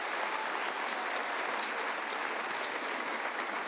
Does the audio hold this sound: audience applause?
yes